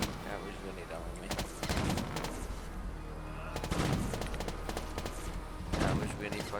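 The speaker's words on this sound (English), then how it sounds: "At least these guys suck ass at shooting." Rapid bursts of gunfire from the Teardown video game, several clustered volleys spread across the stretch, loud and crackling, with brief pauses between them and no talk over the shots.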